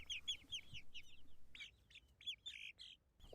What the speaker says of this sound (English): these are their 18 chickens singing in the background